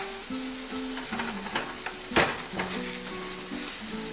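Banana pancakes sizzle steadily in a pan, with a sharp spatula scrape and flip midway, then the frying continues close and even beneath a faint tonal hum.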